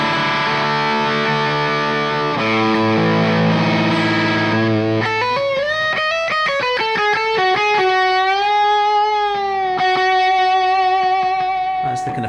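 Electric guitar through a Wampler Tom Quayle Dual Fusion drive pedal with channel 1 drive, held overdriven chords followed by a string of quick, singing single notes and bends, loud and close with no talking.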